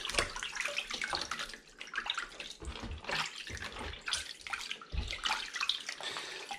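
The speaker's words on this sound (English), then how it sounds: "We'll run some more cold water, just rinse that out." Cold tap water runs into a sink while sausage skins are rinsed, a continuous close splashing stream with uneven gurgles and surges as the water is moved around, alone without talk.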